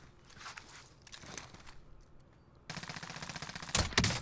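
Rapid gunfire bursts in a shooter video game, a few scattered shots early followed by a loud sustained volley near the end.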